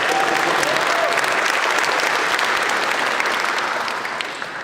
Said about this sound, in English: So I just want to give him a round of applause